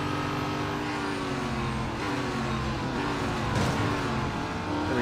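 A race car roars continuously at high revs as it overtakes another car in Real Racing 3 during a Duqueine race, with the loud engine tone shifting as the pass happens.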